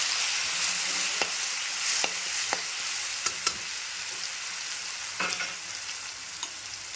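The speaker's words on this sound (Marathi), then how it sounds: "आता लगेच जिरी थोडीशी मोहरी आणि विशेष म्हणजे कढीपत्तासुद्धा मी वाटलेला आहे आणि आता हा मसाला घालूया" Cumin, mustard seeds and a ground curry-leaf masala sizzle steadily in hot oil for aloo vada filling, a close, continuous frying hiss broken by light scrapes and taps of a stirring spoon, with no talking.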